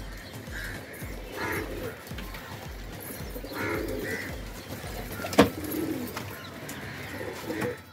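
Pigeons in a home loft in Andheri West, Mumbai, a mother bird feeding her chicks by beak; soft cooing and bird calls run throughout at close range, with one brief louder rustle or flap midway.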